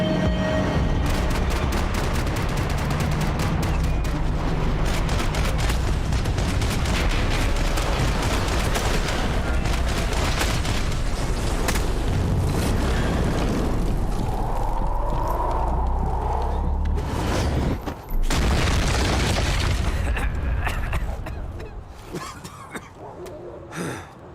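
Gunfire in the video game Max Payne 3, with dense repeated shots and impacts in a long, loud, continuous burst that thins out near the end, mixed with other game action.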